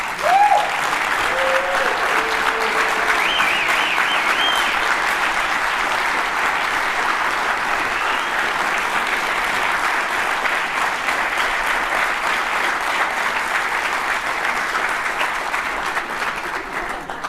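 Long sustained applause from a conference audience at the closing of MM22UK, a dense even roar of clapping, with brief whoops and a voice at the start.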